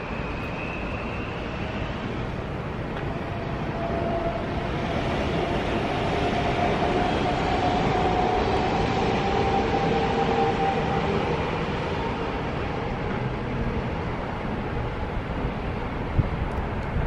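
A freight train loaded with containers and semi-trailers rolls past at a German station with a long, steady rumble of wheels on rails, a faint squeal rising and fading midway, no voices.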